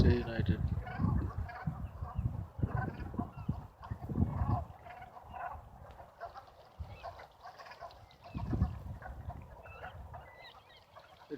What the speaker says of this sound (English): All these birds saw me coming and they're making the noise now.